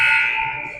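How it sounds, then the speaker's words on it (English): The timekeeper's buzzer at a ringette game sounds loudly as a single steady electronic tone, fading slightly over under a second. "Timekeeper rings the buzzer"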